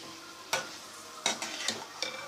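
Potatoes being stirred into green bean masala in a hot pan: a few sharp spoon scrapes and clatters over a steady, quiet sizzle of frying spices, close up.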